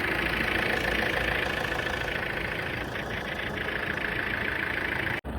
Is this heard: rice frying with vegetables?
no